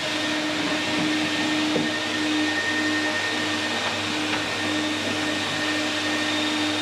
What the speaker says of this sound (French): Il y a l'aspirateur qui marche d'ailleurs.